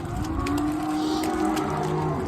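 Freshly weaned beef calves bawl in a chorus of drawn-out, overlapping moos, close by and fairly loud over faint farmyard background noise, with no talking.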